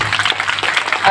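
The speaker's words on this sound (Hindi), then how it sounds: "ताली बजाओ।" A brief burst of audience clapping at a Hindi folk song performance for a daughter's farewell, dense, steady and loud across the whole moment, with a voice faintly underneath.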